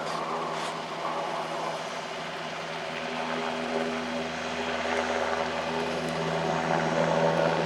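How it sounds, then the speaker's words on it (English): A German Air Force NH90 helicopter flies a display at an airshow, its steady rotor and turbine drone carrying from some distance and slowly swelling louder. "And once the NH90 reaches the apex of that climb, it's into a pretty much 90 degree nose down."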